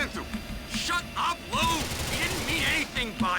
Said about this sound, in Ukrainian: Зараза. Вони стріляють.